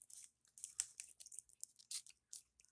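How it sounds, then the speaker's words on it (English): Someone chews applewood smoked cheddar cheese very close up, producing a quiet run of soft, wet crunches and bites in an irregular rhythm with no talking. "Listen to me chew."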